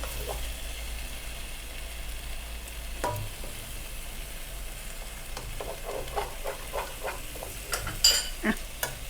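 Two eggs stir-fried with ridge gourd and pumpkin in a pan, a faint steady sizzle with a few light scraping stirs and clinks growing busier toward the end.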